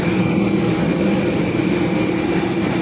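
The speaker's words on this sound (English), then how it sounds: "We have our EasyJet plane and we are boarding from the back doors." EasyJet jet airliner engines whine and roar steadily at Alicante Airport, a loud, continuous hum with a high tonal whine close by, heard alone.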